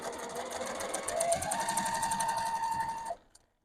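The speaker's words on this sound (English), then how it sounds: "And I am sewing again." A sewing machine stitches quilt pieces together in a steady, fast mechanical chatter, close and continuous for about three seconds before stopping abruptly.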